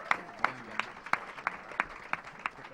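Faint, evenly spaced handclaps at a conspiracy panel during the Conscious Life Expo, about eight sharp claps in a slow, steady rhythm over quiet room ambience.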